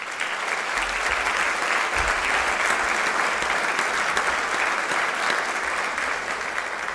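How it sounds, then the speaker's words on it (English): A crowd applauds at the Teacher of the Year 2024 ceremony, many hands clapping in a full, continuous wash that stays steady for about seven seconds over a faint low hum. "Let's give them a round of applause."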